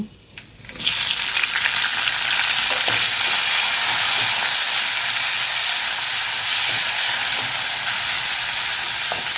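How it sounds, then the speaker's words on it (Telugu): Onions, green chillies, ginger pieces and curry leaves hit hot oil in a pan, bursting into a loud, close sizzle that holds steady and strong with faint stirring scrapes underneath. "ఇప్పుడు ఇందులో ఉల్లిపాయలు, పచ్చిమిర్చి, అల్లం ముక్కలు, కరివేపాకు వేసుకొని వేయించుకుందాము."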